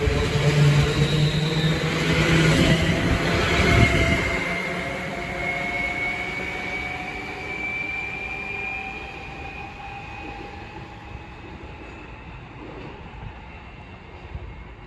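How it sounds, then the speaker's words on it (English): A London Northwestern Railway passenger train pulls away from Stafford station on the West Coast Main Line, its motor whine rising in pitch while the rumble fades into the distance over roughly fifteen seconds. "Now departing is the 12:46 London Northwestern Railway service from Crewe to Birmingham New"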